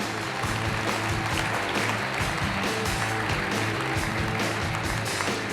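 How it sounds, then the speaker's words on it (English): A keynote audience at the JavaOne 2016 Java EE session applauds its guests, with even, sustained clapping from a large crowd that stays at a steady level throughout. "Let's give a round of applause for our guests"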